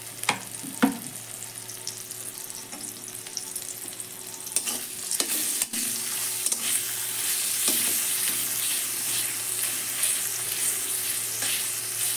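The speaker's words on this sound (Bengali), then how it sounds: "এবারে আমি সর্ষের তেল দিয়ে একে একে ভেজে নেব।" Gima greens fry in mustard oil over low gas, sending up a loud, continuous crackling sizzle, with occasional sharp scrapes and clicks as they are turned.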